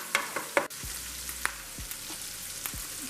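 Chorizo fries in a hot pan, giving a soft, steady sizzle and crackle with a few spatula scrapes and knocks against the pan, close by and fairly quiet.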